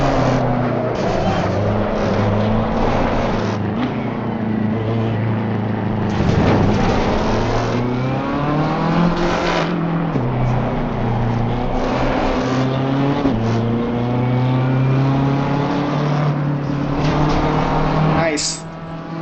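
A BMW M4 GT3 race car engine in the racing game Assetto Corsa Competizione drones loudly and steadily, rising in pitch through the gears with distinct shifts and revs. Someone talks intermittently over it.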